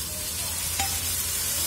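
Ginger garlic paste sizzles in a pan of sautéed onions while making vegetable rava kichadi, a steady moderate frying hiss with a brief stir scrape partway through, no voices.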